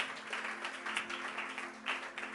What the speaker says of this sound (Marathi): जरा जोरदार टाळ्या प्रभूच्या गौरवासाठी